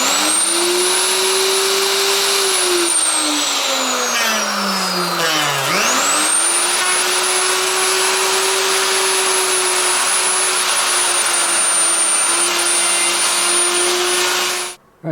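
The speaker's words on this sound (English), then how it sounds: "The router went straight through these aluminium tubes." Router cutting through a wooden guitar body and embedded aluminium tubes on a Fender Telecaster, a loud sustained motor whine that dips in pitch under load then recovers and runs steadily before stopping, no talking.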